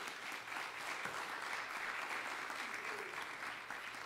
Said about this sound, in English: Let's give this choir another great round of applause.